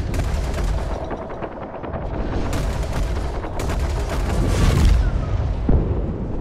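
Heavy gunfire in the space shooter game Star Citizen, a dense, sustained roar of shots and blasts with louder bursts swelling near the end, loud and continuous throughout.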